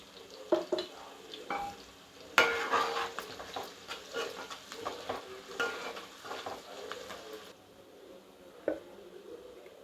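Soya chunks fry and get stirred in a pan for a meat-style curry, giving a steady close sizzle broken by repeated scraping stirs, with a louder clatter burst early on and no talk.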